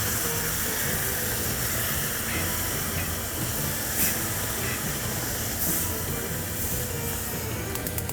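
A cup of water poured slowly into a hot pan of shrimp for shrimp noodle soup, giving a loud, continuous hissing sizzle and steam that holds steady throughout, close by.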